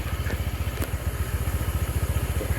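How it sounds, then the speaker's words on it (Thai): A Honda PCX scooter runs along a road at night, its small engine producing a steady, rapid pulsing putter with constant wind and road noise, close and continuous without speech. "ต่อไปเราจะมา ลองขับขี่ในสภาพถนนจริงกันนะครับ"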